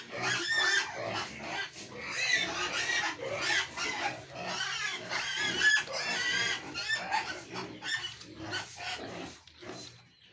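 Many pigs grunting and squealing on a farm where sows are bred by artificial insemination, dense overlapping calls of varying loudness that continue throughout, with what may be dogs or chickens mixed into the pen noise.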